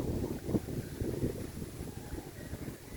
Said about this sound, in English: I just want to show you these heavy gusts if we get one while I'm talking.